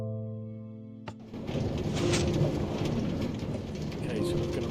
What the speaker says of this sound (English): Let's turn that rain off. It's one thing that's annoying is the weird effects of the rain.